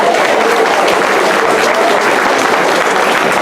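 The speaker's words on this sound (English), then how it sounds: "Give him another round of applause" Loud, dense audience applause at a senior center's tenth anniversary celebration as a congressman is welcomed, sustained clapping filling the room at close range throughout.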